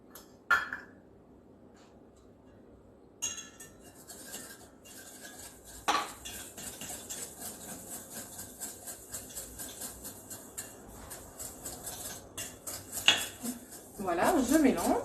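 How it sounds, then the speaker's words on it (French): Sugar, egg yolks and custard powder are whisked in a bowl, metal tapping and scraping against the dish in a quick steady rhythm after a few separate clinks, with a voice heard intermittently. "on va mélanger le sucre avec les jaunes d'œufs et la poudre à crème ou la fécule de maïs"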